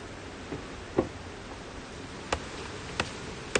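Honey bees hum faintly around a hive during a colony split, with a few soft knocks and ticks standing out over the quiet steady buzz.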